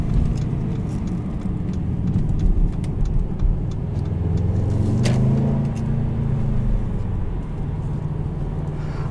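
A 2018 Mercedes-Benz CLA250 engine hums low and fairly quiet from inside the cabin while driving, with a slight rise in pitch midway over steady road noise.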